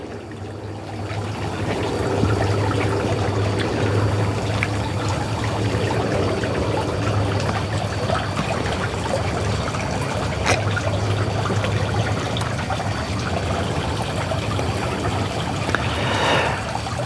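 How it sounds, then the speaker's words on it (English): Steady, continuous trickle and splash of a garden water fountain outdoors in the evening, close and even throughout with no talking. "I'm listening to the water fountain."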